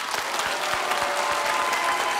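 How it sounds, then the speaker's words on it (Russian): Studio audience applause for a singer after his performance on a Russian music battle show, a steady dense wash of clapping from a crowd, loud and continuous throughout. "Аплодисменты."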